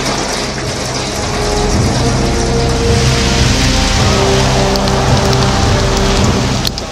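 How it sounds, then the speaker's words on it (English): Heavy rain pours down in buckets on a Baltimore street during a storm, a loud, dense, continuous roar with a faint mechanical hum running underneath. "Rain coming down in buckets in Baltimore."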